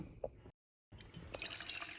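Water from a tap runs and splashes into the base of a moka pot being filled for coffee, a faint drip and a short gap first, then a steadier, brighter trickling fill, quiet and close.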